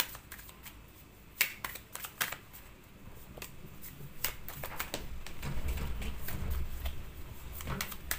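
Tarot cards being shuffled by hand, a series of crisp riffling flicks and soft slaps close by, irregular in rhythm, with a low background murmur underneath.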